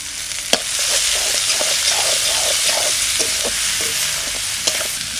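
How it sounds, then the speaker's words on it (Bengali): Onion and garlic paste sautés in oil with a loud, dense, continuous sizzle close by, broken by repeated stirring scrapes and a couple of sharp knocks of a utensil on the pan. "পেঁয়াজ এর সঙ্গে রসুন বাটাটাও দিয়ে দিচ্ছি একসঙ্গে কষানো হয়ে যাবে"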